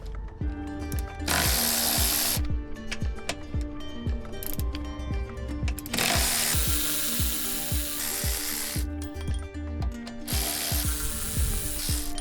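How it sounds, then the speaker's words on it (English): A ratchet loosens the sway bar bracket bolts on a VW MK6 GTI, rapid clicking in repeated bursts close by, broken up by brief bursts of hissing noise between strokes. "Now I'm going to remove the bolts that secures the sway bar brackets."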